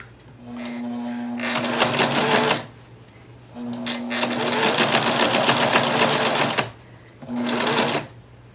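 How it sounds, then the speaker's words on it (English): Sewing machine running a zigzag stitch along satin binding on a baby blanket, in three steady bursts of motor whir with short pauses between, close and clear with no talking. "Our next step is to sew our blanket, and we're going to use the zigzag stitch."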